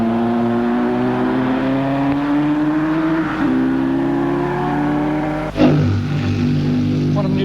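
Honda production racing motorcycle accelerating in first gear out of a tight corner during Coca-Cola 800 qualifying in Sydney, engine note rising steadily and loud, with a sharp shift or blip near the end.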